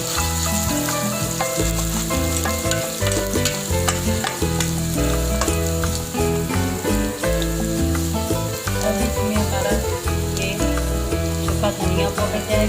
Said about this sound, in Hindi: अब इसमें मैं लहसुन अदरक डालती हूँ।